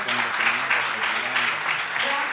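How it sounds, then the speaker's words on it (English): An audience at a wine conference on resistant grape varieties claps in dense, sustained applause, with a voice speaking over it. "So a round of applause."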